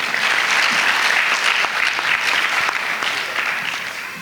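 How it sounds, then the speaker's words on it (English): An audience at an induction ceremony claps hands loudly and continuously, the applause gradually tapering off toward the end. "so clap hands for yourselves."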